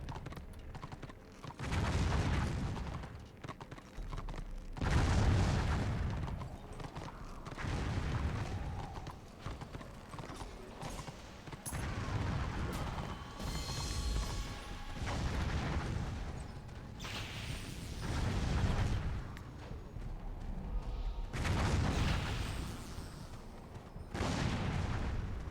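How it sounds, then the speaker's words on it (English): Repeated heavy booms of cannon fire in Warhammer Online roll out at irregular intervals, each a loud, low blast with a lingering tail, over continuous battle ambience and no talking. "Is that an order player manning guns up there and shooting at us? Like, are they actually on the cannons?"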